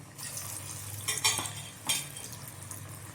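Onion bondas frying in hot oil, a soft steady sizzle with a few brief louder clatters of a utensil against the pan; no talking.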